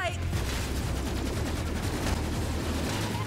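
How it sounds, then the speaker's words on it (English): Gunfire in the Borderlands 2 video game during a Krieg DLC fight, a dense rapid fusillade of shots with low booms underneath, loud and continuous throughout. "they're still flying bullets"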